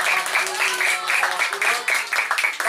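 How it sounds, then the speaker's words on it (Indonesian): A crowd of women claps together in quick, rhythmic bursts at an Isra Mi'raj gathering, fairly loud and close, mixed with voices. "Tepuk tangan buat mak-mak dan sumur."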